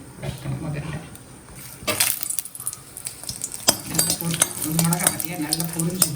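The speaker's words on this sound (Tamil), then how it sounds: "மிளகாய் பார்த்தியா நல்லா பொரிஞ்சு வரும்" Dried red chillies fry in a little groundnut oil in a pan, giving soft crackling sizzle with scattered sharp pops and occasional utensil stirring clicks, close and moderately quiet.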